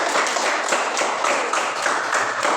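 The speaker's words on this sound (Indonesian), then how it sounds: "Tepuk tangan dulu" A classroom of students claps together, a steady, dense patter of many hands held at an even level throughout, with no voices standing out.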